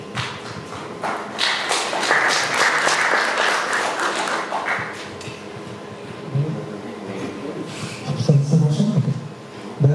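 Audience applause at a French panel discussion on cities and collapse, a sustained wash of clapping for several seconds that fades out, followed by people talking and shuffling.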